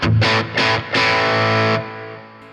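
Heavily distorted electric guitar through a Boss Nextone amp's EL84 power tube emulation on the lead setting plays a few loud, sustained chords in short bursts, then rings out and fades away, with no voices.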